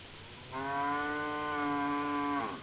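A single cow gives one long, steady moo lasting about two seconds, loud and close, with nothing else heard around it.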